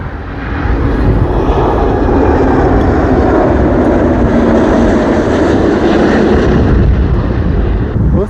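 An Air France airliner passes low near São Paulo airport, a loud, broad engine roar that swells in and holds steady for several seconds, close and overwhelming with wind buffeting the microphone.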